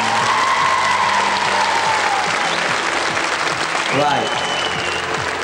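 Audience applause fills the Royal Albert Hall in London at a 1985 fashion show, a dense, steady wash of clapping from a large crowd, with a voice briefly speaking over it.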